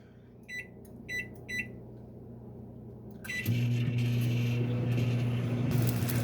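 Three short beeps sound, then a kitchen microwave hums steadily as it starts cooking sausage, a loud continuous drone that holds to the end.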